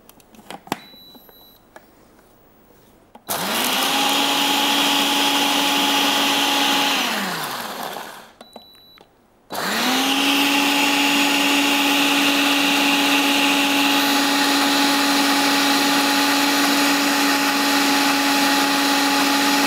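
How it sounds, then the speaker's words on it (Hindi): An electric blender purees almonds and milk into a paste, a loud steady whirring motor running in two long bursts separated by a brief pause, with small clicks before it starts. "इसको मुझे ब्लेंड करना है ताकि बादाम और दूध का एक पेस्ट बन जाए।"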